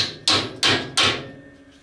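Hammer striking metal to drive a pin out of a snowmobile spring, three sharp close clanks spaced evenly with brief ringing after each.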